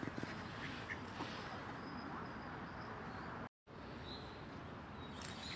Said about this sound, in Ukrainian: Качечки плавають.